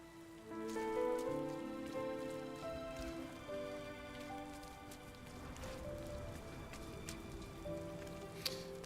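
Steady rain patters and hisses across the scene in the video game RiME, a continuous moderate downpour with layered tonal game music notes drifting over it and no talking.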